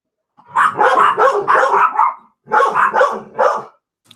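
A dog barks in two close, loud bursts of rapid repeated barks, a short pause between them, with no voices over it.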